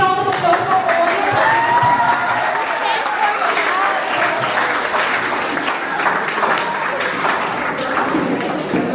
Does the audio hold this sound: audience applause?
yes